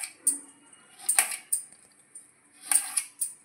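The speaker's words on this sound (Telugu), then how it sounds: "క్యారెట్ కూడా చిన్న చిన్న ముక్కలుగానే కట్ చేసేసుకోవాలి." Carrots chopped into small pieces for egg fried rice, a handful of sharp knife taps on a cutting board in irregular pairs, close and fairly quiet with gaps between strokes.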